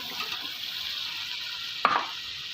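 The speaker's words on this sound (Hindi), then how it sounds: "साथ ही साथ हमारा मसाला भी भूनता जाएगा और साथ साथ हमारे आलू भी इसमें भुने जाएंगे" Masala and potatoes frying in a pan give a steady, soft hiss of sizzling oil, with one brief stir or scrape near the end.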